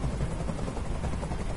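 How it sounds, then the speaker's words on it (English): Steady helicopter rotor drone from a PS4 video game, a dense continuous low chop that stays loud and even throughout with no voices over it. "I can't stand that noise anymore. Tell that helicopter to get out of here."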